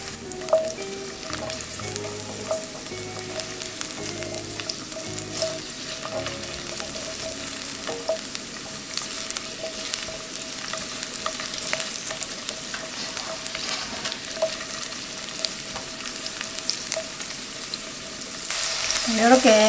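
Garlic scapes stir-frying in a hot pan, a continuous steady sizzle with faint scraping of the spatula throughout, growing a little louder near the end.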